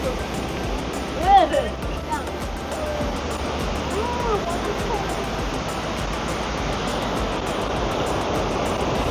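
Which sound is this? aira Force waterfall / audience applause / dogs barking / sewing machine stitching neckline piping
aira Force waterfall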